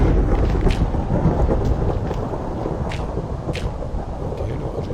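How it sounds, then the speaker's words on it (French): A violent thunderstorm in the Minecraft video game: dense rumbling thunder and steady rain fill the scene, with a few sharper crackling drops or strikes standing out above the roar. "Ok, l'orage est assez violent."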